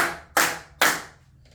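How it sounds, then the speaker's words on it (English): Two sharp, loud hand claps about half a second apart, each ringing out briefly before a quiet pause, heard close and alone with no talking. "Clapping. 1, 2, 3."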